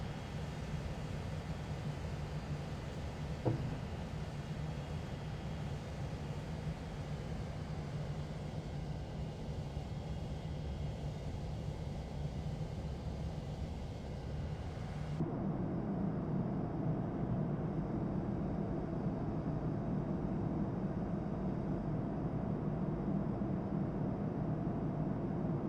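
Steady low engine drone of an aircraft taxiing in a flight simulator game, with a brief tick early on and a shift to a louder, denser rumble partway through; no talking.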